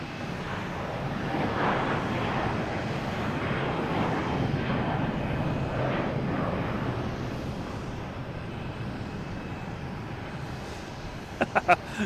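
A Delta airliner at Boston Logan Airport produces a steady, moderately distant engine rumble that fades slightly over time, with talk faintly underneath and a few sharp clicks at the end.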